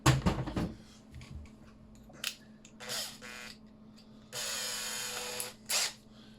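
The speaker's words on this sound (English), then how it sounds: "let's drill out that rivet" A Makita drill fitted with a 5mm HSS bit drills out a rivet on a Hot Wheels Nissan/Datsun Bluebird Wagon diecast car. It sounds in several short whirring bursts between quieter gaps, close and fairly faint.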